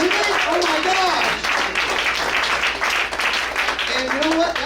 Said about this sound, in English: let's all give a big round of applause for our first 3 comedians back track